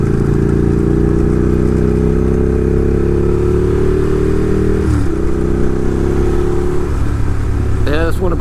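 A Ducati 1098 Streetfighter motorcycle ridden on the road, its engine a loud, continuous drone that climbs steadily in pitch, dips briefly around a gear change, then revs up again, with wind rush underneath.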